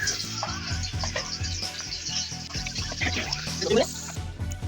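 Oil poured into a pan with chopped onions and chilies added for a noodle dish, giving a close sizzle with crackling and dripping sounds, steady and moderately loud.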